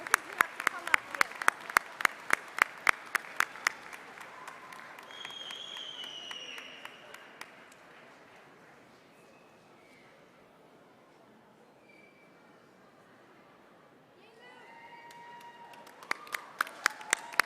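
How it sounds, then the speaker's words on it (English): Scattered clapping from a small audience at a convocation ceremony award presentation fills the opening seconds, fading into a quieter room, then a brief burst of clapping returns near the end. "You give an applause now."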